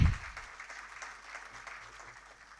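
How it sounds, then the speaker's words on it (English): Audience applause at the evening session of the SITREK Cyber & Tech Summit 2026, a thumping start followed by even clapping that gradually thins and fades. "Can we have another big round of applause for Sidekick?"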